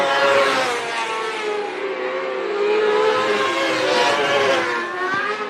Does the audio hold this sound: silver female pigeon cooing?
no